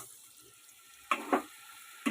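Paneer cubes fry lightly in a pan with masala, a faint low sizzle under a few short stirring scrapes near the end, no talking.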